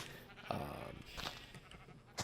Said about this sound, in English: Here's my pretty extensive sheep farm.